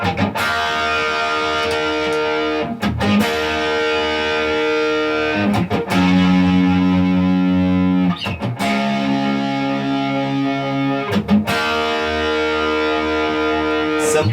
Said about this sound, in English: If you're familiar with that effect, they're using that to make that sound